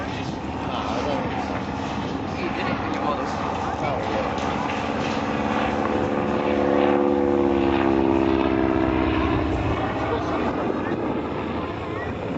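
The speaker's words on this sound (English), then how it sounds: "you can see the aircraft being flown very slowly here" A 1940s Fieseler Storch propeller plane drones past slowly at Biggin Hill Airshow, its engine a steady, moderately loud hum that swells toward the middle with a shifting pitch, with a person talking over it throughout.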